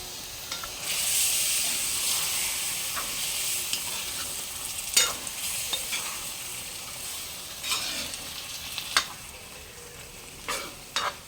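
Chicken curry masala sizzling and bubbling steadily in a pan after a splash of water is added, with intermittent scrapes and knocks of a stirring spoon against the vessel.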